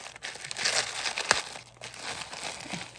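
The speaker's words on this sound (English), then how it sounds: "I might as well just take my scissors and a little snips and snip it as much as I can" Scissors snip and cut open a packed bundle from Allegory Gallery, giving close crinkling and crunching of wrapping with a few sharp cuts, up close and without talk.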